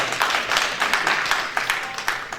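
An audience gives a round of applause at a community event honoring a group home, a moderate, steady patter of many hands clapping together with no voices above it.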